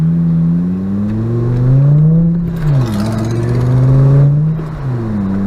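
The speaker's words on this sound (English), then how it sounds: "enjoying the sound of a good engine" A Volkswagen MK5 Rabbit with a cat-back exhaust revs up and down loudly and close, its exhaust note rising and falling in pitch with a brief dip midway.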